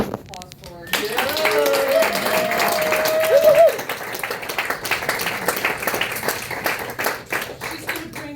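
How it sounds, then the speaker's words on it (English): Applause for performer Kathy Geary at the Arts Nest fills the room, a dense wash of clapping hands that runs strong from start to finish, with whoops and voices rising over it. "Please give her a round of applause for her."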